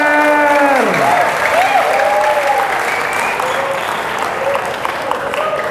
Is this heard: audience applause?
yes